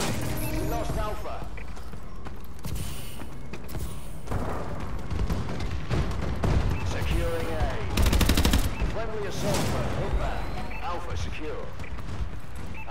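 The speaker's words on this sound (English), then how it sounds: "Friendly bombing run incoming" A Call of Duty match with a friendly bombing run: dense gunfire and rapid machine-gun bursts mixed with thudding explosions, one louder blast near the end, under continuous game voice callouts.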